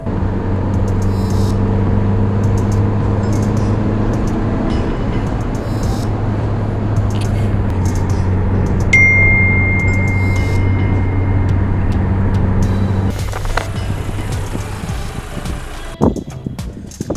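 A Mahindra XUV 700 SUV cruises on a high-speed test track, giving a steady, loud interior road and engine drone with a brief electronic beep partway through and a shift in tone near the end.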